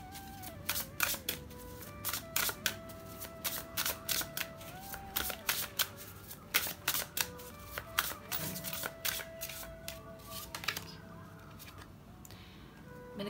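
An oracle card deck is shuffled by hand in a quick, steady series of close, crisp riffling bursts that carry on for most of the stretch before tapering off.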